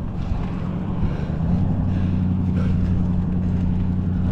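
Steady, loud wind roar buffets the microphone while cycling in rain on an SE Bikes Monster Quad, a low rumbling drone filling the whole clip with no speech.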